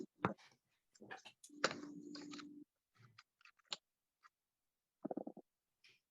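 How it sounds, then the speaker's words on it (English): Sparse computer keyboard clicks heard over an open microphone on a city council budget video call, a few scattered taps and short bursts with quiet gaps and a brief murmur of background activity. "We're hearing a lot of keyboard clicking right now."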